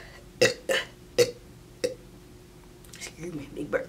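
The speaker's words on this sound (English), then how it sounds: "Excuse me, big burp." Several loud, close belches erupt one after another during a Chick-fil-A fast-food mukbang, with quieter mouth and eating noises trailing afterward.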